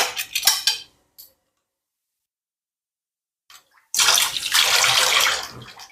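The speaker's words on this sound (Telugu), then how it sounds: "ఇట్లాగా ఉండలు లేకుండా వాటర్ పోసుకొని ఇది బాగా మిక్స్ చేసేవాళ్ళు" Water is poured into a cup of millet malt powder and stirred with a spoon, giving a bright splashing pour, a silent gap, then a longer burst of sloshing, watery mixing.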